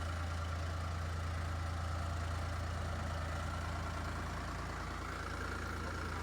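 A tractor engine idles in a steady, unbroken low drone that holds an even level from start to finish, with no voices over it.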